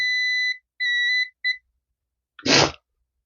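Multimeter continuity-test beeps while probing points on an LED TV board: three steady high-pitched tones, the last very short, then a brief burst of broadband noise; loud and isolated, with no talk.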